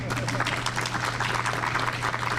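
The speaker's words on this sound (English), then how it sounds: "And you can clap." An audience applauds for National Blue Ribbon schools at a recognition ceremony: a steady, dense wash of clapping fills the whole stretch over a low electrical hum.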